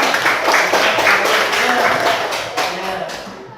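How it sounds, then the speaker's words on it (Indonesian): Students in a classroom give a short burst of applause for a classmate, a brisk scatter of clapping hands that starts loud and thins out over a few seconds. "tepuk tangan buat temannya"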